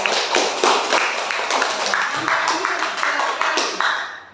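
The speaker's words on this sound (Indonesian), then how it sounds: "tepuk tangan untuk kelompok 3" Continuous clapping from a classroom group, a steady patter of many hands that holds for several seconds before tapering off at the end.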